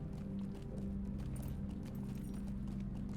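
Horse hooves clip-clopping in the Lord of the Rings Online video game, a steady rhythmic trot under a low ambient hum, with no talking.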